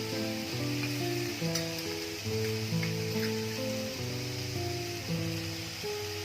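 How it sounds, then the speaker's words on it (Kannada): Garlic frying in a pan over medium heat for tomato chutney gives a steady, continuous sizzle with a sustained tonal melody running underneath throughout. "5 ನಿಮಿಷ ಮೀಡಿಯಮ್ ಸಿಮ್ಮಲ್ಲಿಟ್ಟು ಫ್ರೈ ಮಾಡ್ಕೊಬೇಕು"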